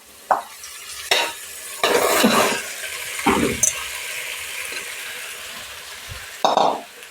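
Mixed vegetables tip into a hot pan of browned onion and tomato for a Maharashtrian rassa bhaji, bringing loud scraping stirs and bursts of sizzling frying, with quieter stretches between.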